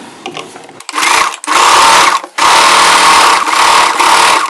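A domestic sewing machine stitches a layered frill for a churidar in three loud, close bursts separated by brief pauses, each run a fast steady whirring chatter.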